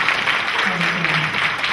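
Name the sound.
audience applause for actors at a panel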